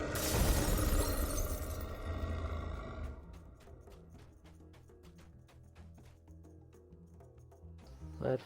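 A fire giant's fireball slams home in the DDO fantasy game, a loud crackling blast that roars and shatters for a few seconds before fading into quieter game sounds and music.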